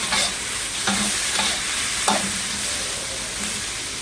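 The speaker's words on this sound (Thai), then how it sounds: "หลังจากนั้นผัดให้เข้ากันนะคะ" Sweet and sour seafood is stir-fried in a pan, producing a steady sizzle broken by a few distinct scrapes and stirring knocks of a utensil against the pan.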